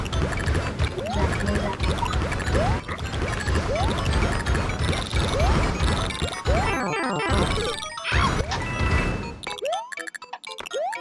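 Chaotic game sound effects from New Super Luigi U as a character is crushed: dense crashes, whacks and springy boings layered over music, ending in sparse ringing tones.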